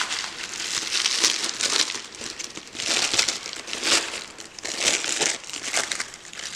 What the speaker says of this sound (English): take some wax paper, crumple it up